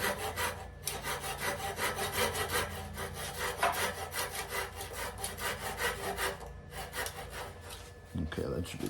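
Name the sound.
cutting off a wooden piece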